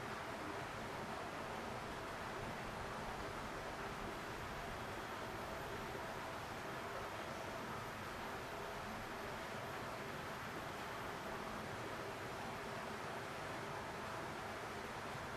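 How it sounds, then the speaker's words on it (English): A constant rush and wash of water in Ubud, a steady, even hiss that fills the whole stretch without pause. "the constant rush and wash of the water"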